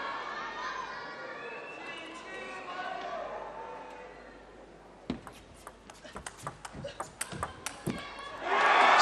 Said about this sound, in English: that's a massive roar in the crowd as well